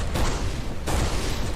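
A flak cannon in the space shooter Everspace 2 fires two heavy, booming bursts in quick succession, loud and dense, each blast spreading into a broad roar.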